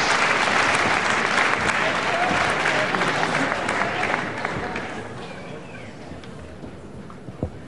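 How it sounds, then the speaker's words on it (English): A wrestling crowd applauds after a drawn bout, a loud roar of clapping and cheering that gradually fades and thins toward the end, with a commentator's voice over part of it. "Just listen to that applause."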